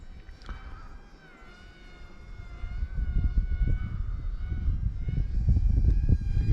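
Deerc Z-65 RC airplane flying in strong wind, its steady electric motor whine held over heavy gusting wind rumble that builds louder toward the end.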